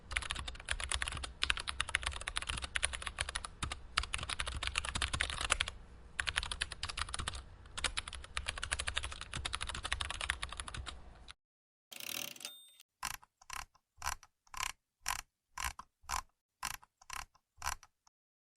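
Typing code on a computer keyboard while building a Django chatbot app, with a long steady run of dense, close clicking keystrokes, a short pause, then a series of separate, evenly spaced key taps near the end.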